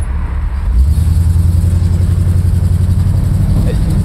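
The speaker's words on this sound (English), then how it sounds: "Exhaust sounds great." A 1963 Chevrolet Impala SS with drum brakes on all four corners rumbles along while driving, its exhaust giving a steady, deep, pulsing drone that swells slightly after the first second and holds close and loud.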